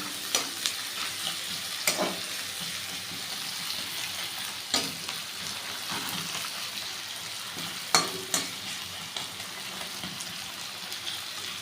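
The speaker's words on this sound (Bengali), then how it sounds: "পেঁয়াজটাকে ভালো করে বয়েল করছি আমি" Chopped onions sizzle steadily in a pan while being cooked down for a potato and prawn curry, with a constant frying hiss broken by regular clinks and scrapes of a stirring spoon, close and without talk.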